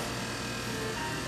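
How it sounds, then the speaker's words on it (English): An electric kitchen mixer whirs steadily at a constant pitch, running on its own for a short stretch while a cracker-crumb dessert is prepared. "Yep, turn it on. Now while the mixer is hard at work"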